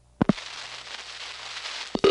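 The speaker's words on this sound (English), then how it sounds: "ringing into a busy signal, well, that's the panel way of doing things" A telephone busy signal sounds on a crossbar exchange trunk, an ITT Pentaconta switch in Asheboro, North Carolina, from 1977. Sharp clicks and pulses come first, then a steady hissy tone, and a tone bursts in clearly at the end.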